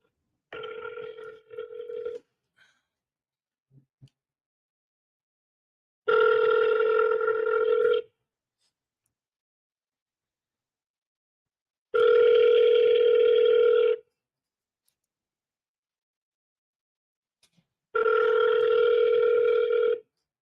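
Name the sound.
telephone ringing on an outgoing call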